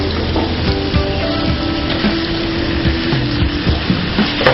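Mutton sizzling and frying in a pan with onions, a steady dense crackle running through the whole stretch with faint scraping stirs now and then, close and fairly loud.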